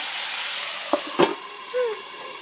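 Slit green chillies dropped into a hot pan give a soft, steady sizzle with a few brief clattering knocks and a short scrape, close but fairly quiet.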